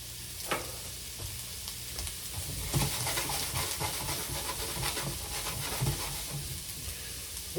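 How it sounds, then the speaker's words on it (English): Pork sautés at medium-high heat in a pan for pineapple fried rice, with a loud, dense sizzle, repeated stirring scrapes and tosses, and sharp spatters building through the middle. "we're going to saute this for a minute, maybe a minute and a half at the most."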